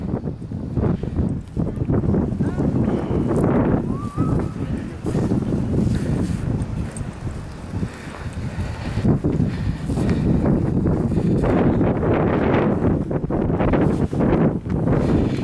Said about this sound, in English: we can feel the wind picking up as we're out here sort of in this open area